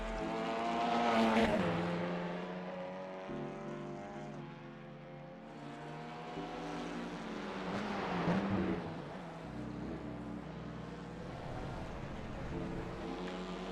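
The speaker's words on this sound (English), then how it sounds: "put the fans on a level that made it sound like a hydro jet was about to take off there" Desktop PC cooling fans spin up loudly during an iRacing touring car session, a steady roaring whoosh with rising and falling tonal whine, close and continuous without speech.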